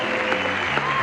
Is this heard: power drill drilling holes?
no